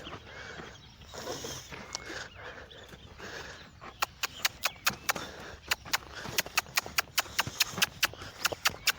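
A horse being trained on foot to move sideways steps on firm ground, its hooves clopping in a sharp, uneven series that grows denser and louder in the second half, with faint background noise earlier.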